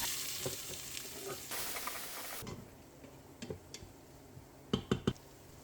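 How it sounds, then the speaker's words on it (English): Chopped onion sautéing in oil and butter in a stew pot, giving a steady close sizzle with occasional sharp stirring knocks and scrapes near the end. "Now add 1 large chopped onion and sauté well"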